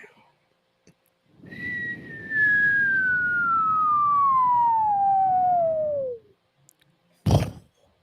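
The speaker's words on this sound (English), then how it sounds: "getting that wild coyote whistle sound when falling all the way down" Cartoon falling whistle sound effect like Wile E. Coyote's, a clear descending tone sliding steadily downward over about four seconds over a soft rushing hiss, then a sharp thud-like crack shortly after.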